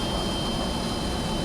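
An Avro Vulcan XL426 jet bomber taxiing on a runway, a steady loud roar of jet engines with a constant high whine, unbroken for the short stretch.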